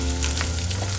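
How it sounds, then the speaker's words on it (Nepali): Large chilies and browned onions fry in a pan, a loud, dense, continuous sizzle and crackle heard up close with no voices. "यो ठुलो खोर्सानी यसरी हालिदिनुहोस्, एकछिन भुटिदिनुहोस्।"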